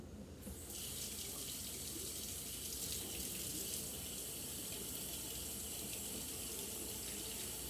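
Tap water runs steadily into a pot while water is added to pork and rice cooking at home, a constant close hiss that starts abruptly after a brief moment.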